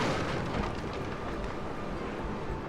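In Total War Shogun 2, cannon volleys and explosions merge into a dense, continuous rumbling roar of distant gunfire and blasts, with no clear breaks throughout.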